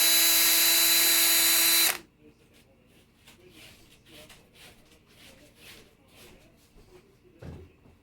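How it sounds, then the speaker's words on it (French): A power drill whirs loud and steady for about two seconds, then cuts off abruptly, leaving faint shuffling and a low knock in a quiet room. "Maniaque à perceuse."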